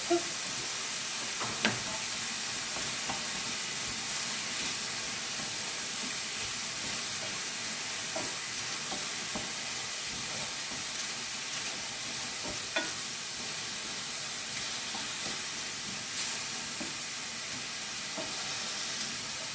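Garlic and ginger frying with shrimp in a pan, a steady close sizzle and hiss with occasional light clicks of stirring throughout, no voice.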